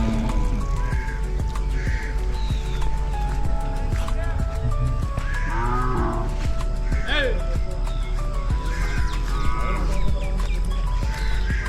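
Hundreds of Hallikar cattle, cows, calves and bulls gather at a busy village livestock market, with scattered moos and calls rising over a constant crowd din and people talking nearby.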